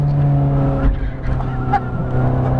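Ferrari F430 Scuderia race car engine droning steadily at Las Vegas Motor Speedway, a loud in-cabin hum with strong harmonic tones and brief shifts in pitch.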